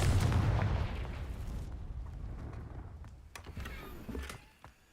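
A Confringo blasting curse explodes in the Hogwarts Legacy video game, a loud booming burst that fades into a lingering low rumble with scattered crackles.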